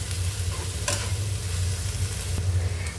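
Mustard paste stir-fried in plenty of oil for mustard hilsa, with a steady close sizzle and occasional scraping stirs of a spoon in the pan, no voices.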